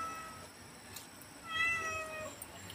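Cats meow in a home kitchen while chicken is being prepared, one clear rising call near the middle over a quiet background hiss, with a fainter cry later.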